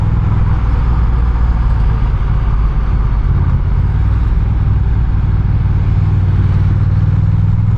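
A Honda Rebel 1100 DCT motorcycle on the move, its engine droning steadily and loudly with rumbling road and wind noise, and no distinct gear changes standing out.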